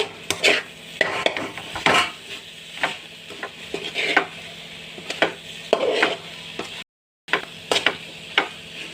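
A coconut and jaggery laddu mixture is stirred in a pan: a spoon repeatedly scrapes and knocks against the pan with a soft sizzle underneath, keeping an uneven, steady rhythm close by, with a brief dropout near the end.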